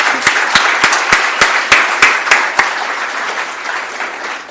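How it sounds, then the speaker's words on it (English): Audience applauds a keynote speaker, a broad wash of clapping from many hands with one nearby clapper landing sharp, evenly spaced claps over the first half before the applause carries on softer and steady. "I would really ask the audience to just give you another more deserving round of applause"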